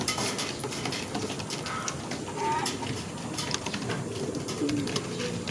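Racing pigeons cooing at a loft as birds return from a race, soft low coos under steady outdoor background noise, with faint distant voices.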